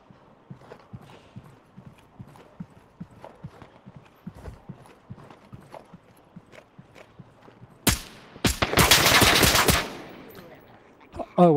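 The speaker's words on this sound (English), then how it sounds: "a lot of hits on that wooden pole" Scattered shots striking a wooden pole in the Onward VR shooter on Oculus Quest, a series of sharp taps and thuds, followed by a loud dense burst of gunfire near the end.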